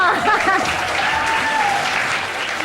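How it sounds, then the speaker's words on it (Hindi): Studio audience on a television morning show breaks into applause: loud, dense continuous clapping from many people, steady across the whole stretch, with a voice and faint musical tones mixed underneath. "तालियां।"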